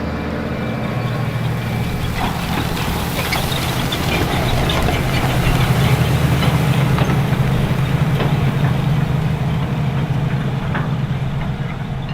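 A John Deere 8R 340 tractor pulls Kelly diamond harrows through a field during tillage. Its engine gives a steady, loud, continuous drone with faint mechanical rattles on top, and no voices.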